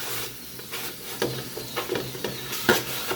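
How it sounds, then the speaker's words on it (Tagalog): Meat sautéing in its own rendered fat gives a soft sizzle broken by several stirring scrapes and clatters at uneven intervals, close to the pan, no talking. "Igisa siya sa kanyang sariling mantika"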